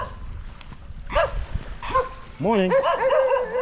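Dogs on a beach in Leyte, Philippines, give a few yips and whimpering barks close by, rising into a run of whiny vocalizing at the end, with a man's brief greeting and surf-like background noise.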